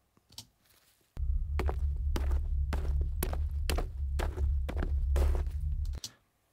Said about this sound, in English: maybe I'd prefer more of a left, right kind of footstep sound